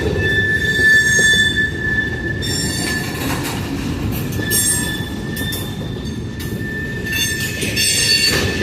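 A freight train hauling tank cars rolls steadily past a railroad crossing, with a continuous heavy rumble and persistent high wheel squeal, loud and close throughout.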